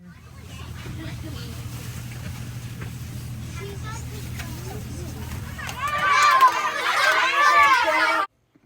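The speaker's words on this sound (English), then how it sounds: "You'll notice that these students were being pretty loud." Students chatter loudly aboard a school bus, a dense mix of overlapping voices over the bus engine's low rumble, the talking swelling louder toward the end before cutting off.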